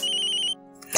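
A phone ringtone plays a bright repeating electronic warble for about half a second and then cuts off, followed by a brief rustle.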